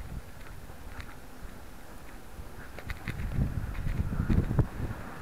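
Strong wind gusting across an open RC flying field, a rough, rumbling buffeting on the microphone that swells and grows louder toward the end.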